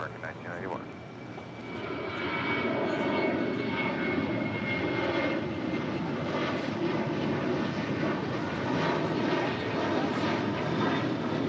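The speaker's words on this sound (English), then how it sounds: "American Airlines flight 1991 in an A321neo." An American Airlines Airbus A321neo rolls for takeoff on runway 25 right, its engines a loud, steady roar building after the first second and holding for the rest of the clip, with a voice speaking over it.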